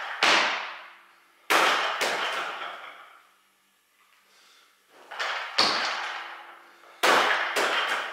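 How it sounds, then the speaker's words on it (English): Loaded barbell crashing down during power jerk lifts in a gym, several loud metallic bangs spaced a second or two apart, each ringing out and fading, with no talk. "start with the barbell out in front of you a little bit, roll it into your shoulders and explode out of that bottom position as quickly as possible"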